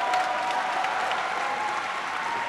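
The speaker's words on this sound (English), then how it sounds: "A standing ovation from the crowd." Crowd at a fight event giving a standing ovation after a submission choke finish, sustained loud applause and cheering filling the whole stretch without pause.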